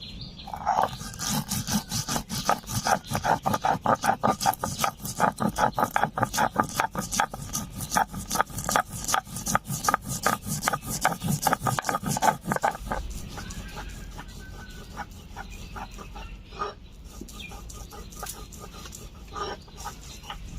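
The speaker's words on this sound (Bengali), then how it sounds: "সরিষা বেটে নিয়েছি" Mustard seeds are ground into paste on a grinding stone with a fast, steady run of rhythmic scraping strokes nearby. The strokes soften and thin out toward the end.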